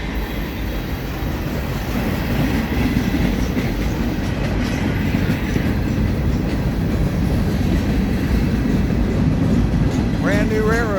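A long CSX freight train led by two SD40-3 locomotives, with hoppers, dump cars and new railroad ties, rolls slowly past close by, a continuous heavy rumble with rhythmic wheel clatter and a brief squeal near the end.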